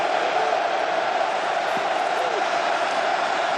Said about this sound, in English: 3rd and 8, deafening crowd